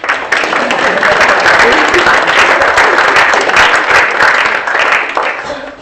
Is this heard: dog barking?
no